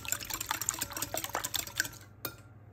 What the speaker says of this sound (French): Vous fouettez légèrement.